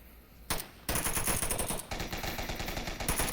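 Rapid bursts of automatic gunfire, the close, loud crack of blind-fired shots in the VR shooter Onward during a competitive 2v2 match, repeating in dense volleys with brief gaps.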